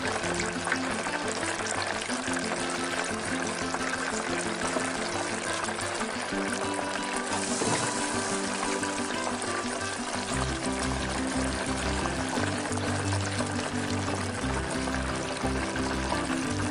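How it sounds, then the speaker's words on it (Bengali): Gokul pitha deep-frying in hot oil while a slotted spoon turns them, giving a continuous, dense bubbling hiss that stays loud and even throughout with no voices. "একটা ঝাঁঝরি হাতার সাহায্যে উল্টে পাল্টে লাল করে ভেজে নিচ্ছি।"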